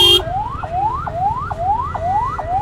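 An ambulance siren wails in road traffic, a loud rising-and-dropping tone repeating about every half second and sounding close by, with a low rumble of vehicles beneath and no talk.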